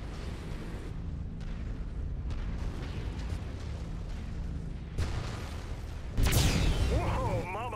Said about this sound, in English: That ammo blast really warmed things up